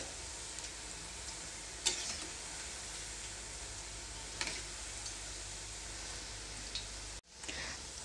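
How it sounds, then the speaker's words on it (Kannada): Palak corn pakodas fry in hot oil with a steady, even sizzle that runs throughout, broken by a few faint clicks and a short drop near the end. "ಒಂದು ಕಡೆ ಚೆನ್ನಾಗಿ ಕರಿದ ಮೇಲೆ ಮತ್ತೆ ಇದನ್ನು ಇನ್ನೊಂದು ಕಡೆ ತಿರುಗಿಸ್ಬಿಟ್ಟು ಹಾಕ್ಕೊಳ್ಳಿ."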